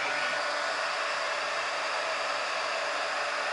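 Heat gun blowing on silicone spoons while shaping fabric flowers, a loud steady hissing airflow roar held evenly throughout, close to the microphone with no talk.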